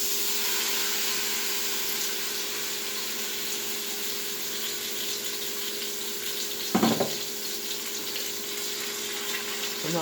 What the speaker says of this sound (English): I'm now going to then start off with sauteing, browning the meat.